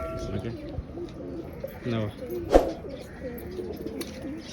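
A pigeon coos softly at close range as someone talks nearby, and a sharp knock stands out near the middle.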